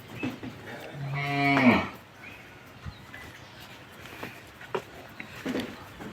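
At a cattle farm selling cows for Qurbani, one long, low moo rings out up close. A quiet barn hush with faint scattered clicks follows.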